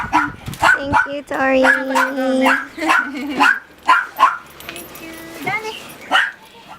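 Dogs returning to a shelter after a strong typhoon bark, yip and whimper excitedly close by, with overlapping high whines and short barks throughout as people talk over them.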